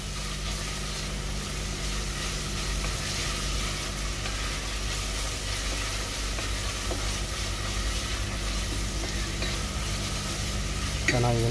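Onions sauté in a pan for a simple chicken curry, giving a continuous, even sizzle and frying hiss close by with no voices.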